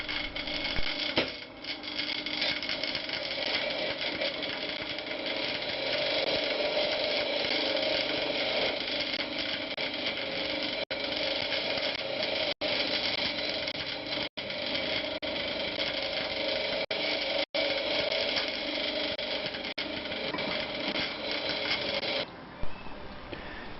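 A wire wheel scrubbing rust off the hubs of a James autocycle under restoration: a steady, loud, harsh whirring grind that runs unbroken for the whole stretch, with a few brief dips where the part is lifted away.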